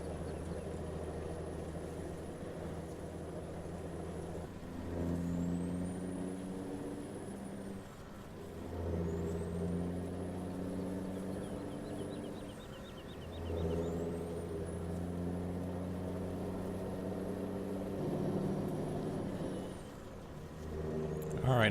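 A heavy truck engine in Farming Simulator 17 drones steadily with a low rumble, its pitch swelling and easing in repeated revs while a thin high whine rises and falls above it.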